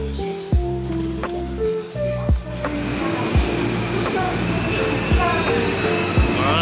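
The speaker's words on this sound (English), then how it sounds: "Let's get on the train and let's go to Akihabara." A train carrying passengers toward Akihabara in Japan, with a steady rumbling ride, wheels squealing on the rails and periodic clunks of the cars passing over track joints, heard from inside the carriage.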